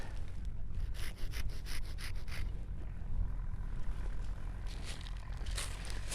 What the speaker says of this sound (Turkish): Testereyle böyle açıyoruz ki kalemlerimizi rahat takalım.